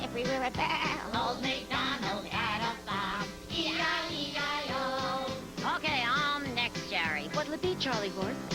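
A singing voice imitates a lamb's bleating baa within a children's sing-along of a farm song, the bleats rising over a steady musical accompaniment.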